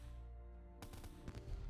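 Cannon fire in a war strategy video game: a sudden loud broadband blast at about 0.8 s, followed by rumbling debris and a second sharper report near 1.3 s over a steady low game hum.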